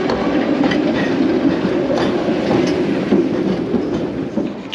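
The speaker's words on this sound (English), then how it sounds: "Trams." Trams passing along a busy city street in Sofia, Bulgaria, a steady rumble of rail wheels with rhythmic clicking and rattling, fairly close and continuing throughout without speech.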